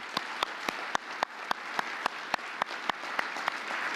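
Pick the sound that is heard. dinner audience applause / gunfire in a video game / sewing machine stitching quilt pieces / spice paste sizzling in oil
dinner audience applause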